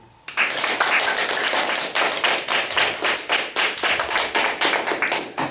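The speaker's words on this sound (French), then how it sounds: "Veuillez l'accueillir en applaudissant, s'il vous plaît." Audience applause breaks out at an improv comedy match, dense clapping that swells quickly and then pulses in rhythmic waves, loud and close, with no talk over it.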